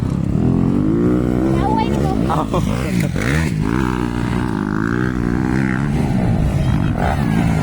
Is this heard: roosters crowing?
no